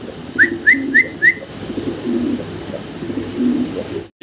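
A male fancy pigeon, a blue bar, coos close by with four quick, evenly spaced rising calls, followed by softer, lower throaty murmuring in a quiet room.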